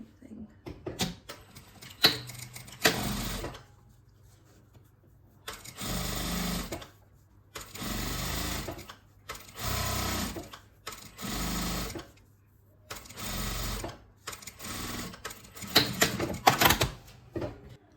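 A sewing machine stitches a zip onto a quilted makeup bag in several bursts of rapid mechanical whirring separated by pauses with handling noises and quiet talk.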